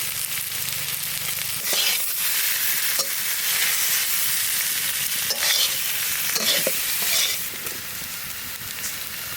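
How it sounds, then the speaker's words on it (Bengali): Taro with turmeric sautés in a pan, a loud continuous sizzle under repeated stirring scrapes and spatula strokes, easing slightly toward the end, no talk. "কচুটা আমরা সুন্দর করে কষিয়ে নিয়েছি"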